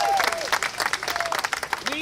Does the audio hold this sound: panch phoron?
no